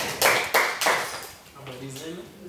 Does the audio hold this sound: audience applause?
yes